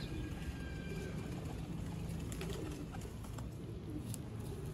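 Domestic Lahore fancy pigeons coo softly. The low, faint murmuring goes on continuously against quiet background noise.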